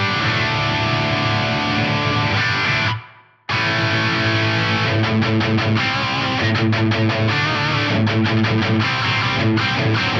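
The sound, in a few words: reverb effect with 1.5 second decay and low mix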